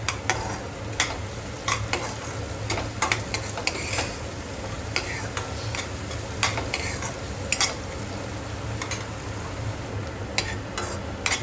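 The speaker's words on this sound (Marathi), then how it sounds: "तर कांदा इथे छान परतला आहे" Onion sautéing with salt in a pan for stuffed brinjal, a steady close sizzle with frequent spatula scrapes and stirring clicks throughout, no voices.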